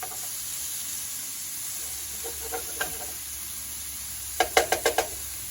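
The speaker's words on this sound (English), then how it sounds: "So I'm starting to flip here, and you can see it is starting to get some nice crispy brown on the squash." Cushaw squash frying in a pan, a soft continuous sizzle with a few light taps, then a quick run of five sharp scraping clicks as pieces are flipped.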